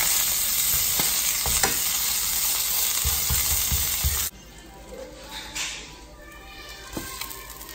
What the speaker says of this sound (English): I'm just darkening my meat a little more.